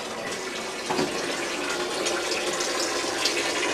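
A Japanese toilet seat plays a continuous running-water sound, a steady close hiss like a gushing tap, loud and unbroken, with no voices.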